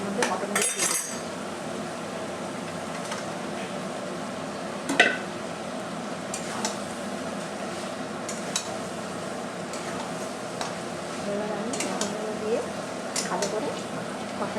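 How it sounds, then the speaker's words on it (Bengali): Mutton with spice masala stir-fried in a pan for curry, soft continuous sizzle with occasional spoon clinks and scrapes while a person talks over it. "এবার এগুলো দিয়ে আমি ভালো করে কষাতে থাকবো"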